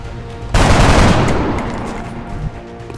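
Soldiers firing in XCOM: Enemy Unknown, one loud sudden volley bursting in and then fading through a long rumbling decay, with no talk over it.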